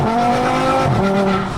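A 1000 hp Volkswagen Golf 7R roars loud and close, its engine note sustained and slightly shifting in pitch over a short burst.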